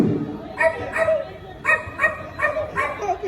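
A person imitates the yapping bark of a posh Shih Tzu, giving about six short, sharp yips in quick bursts, close and fairly loud, with background crowd noise underneath.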